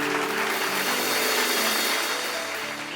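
A church audience claps during a sermon, making a steady, dense wash of applause that holds for the whole stretch without a break.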